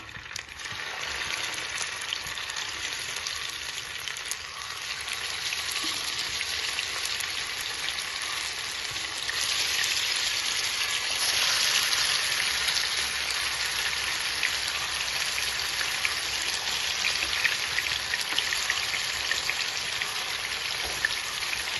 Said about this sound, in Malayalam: ചൂടായ വെളിച്ചെണ്ണയിലോട്ട് നമുക്ക് ഈ ചിക്കൻ എല്ലാം കൂടെ ഒന്ന് പെറുക്കി കൊടുക്കാം